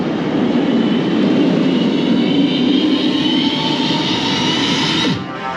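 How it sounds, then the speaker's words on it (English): Loud, continuous rumbling roar of a roller coaster train on test runs at Alton Towers near the Nemesis queue, steady and close, easing off abruptly at the end. "Here it comes, testing the other train."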